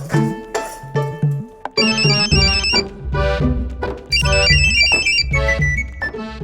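A phone ringtone plays repeatedly during an outgoing call, a loud tonal melody with bright beeping notes repeating in bursts over a low background, with no talking.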